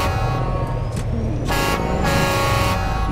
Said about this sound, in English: Thanks for sounding that train horn.